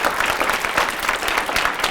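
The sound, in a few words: audience applause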